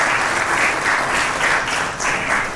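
Sustained applause from an audience at a hotel industry awards ceremony, dense even clapping continuing for the whole stretch.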